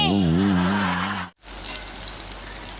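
Potato bhaji fry in hot oil with a steady, close hiss and sizzle. It follows a short stretch of voice that cuts off abruptly before the frying noise takes over.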